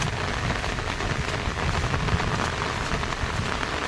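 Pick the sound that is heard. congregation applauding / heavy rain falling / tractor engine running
heavy rain falling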